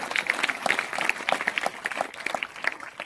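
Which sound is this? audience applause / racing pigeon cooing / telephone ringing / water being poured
audience applause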